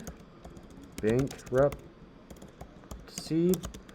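Close clicks of typing on a computer keyboard, heard as a light patter in short bursts between and beneath a person speaking.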